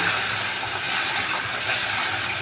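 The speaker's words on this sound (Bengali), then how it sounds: "বাতাসে মাছ ভাজা হচ্ছে" Small batasi river fish frying in a pan of oil, a loud, close, continuous hiss and sizzle with no voices.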